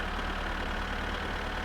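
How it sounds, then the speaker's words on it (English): Tractor engine in the video game My Summer Car: a loud, steady, rumbling diesel idle with a chugging low-end knock, continuous throughout and heard alone. "Wow, this tractor's loud."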